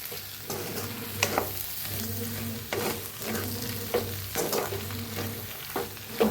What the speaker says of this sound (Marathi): आता वरनं टाकूया कोथिंबीर छान असं मिक्स करून घेऊया